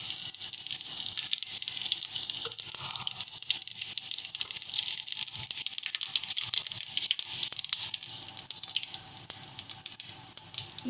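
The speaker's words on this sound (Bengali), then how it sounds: "এই যে পাঁচফোড়ন আর তেজপাতা, এটা ফোড়ন দিয়ে দিচ্ছি" Panch phoron seeds and bay leaves crackle in hot oil, a dense, steady sizzle with fine popping patter running without pause, close and fairly loud throughout.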